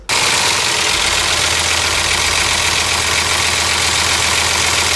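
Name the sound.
damaged truck engine running with internal noise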